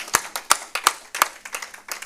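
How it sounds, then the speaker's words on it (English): Scattered handclaps from a small audience at the Kenya Diaspora Homecoming Convention, close and sharp, a few irregular claps per second without speech. "Another round of applause"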